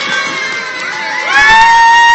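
A crowd cheers, whoops and shouts loudly for a young man who stopped a runaway vehicle, the excited roar swelling and growing stronger toward the end, with a shrill whistle-like tone cutting through.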